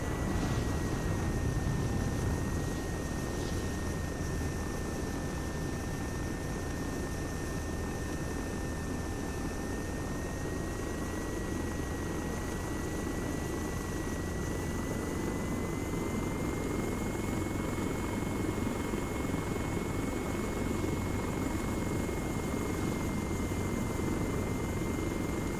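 A helicopter in the Arma video game flies with a steady, loud rotor and turbine drone that holds constant, with a whining tone that rises slightly and no talking.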